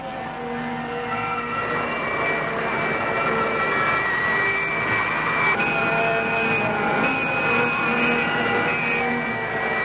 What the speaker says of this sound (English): More thrust. I'll increase the thrust to Mach 80.